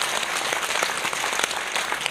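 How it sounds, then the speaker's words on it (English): An audience at an awards night ceremony breaks into sustained applause, many hands clapping in a steady crackling wash at moderate volume, with no speech over it. "Let's give her a round of applause."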